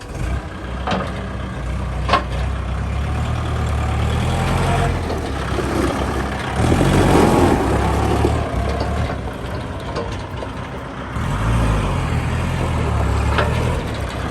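Kubota L5018 tractor, registered in 2017, drives with its diesel engine running at a steady, loud low rumble, swelling as it revs around the middle and again near the end.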